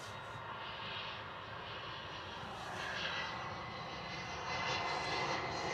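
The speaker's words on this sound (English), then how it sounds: "EasyJet A320 on arrival by the looks of it." An EasyJet Airbus A320 arrives at Bristol Airport in wet, stormy weather, its jet engines a broad, steady roar that slowly swells louder and nearer.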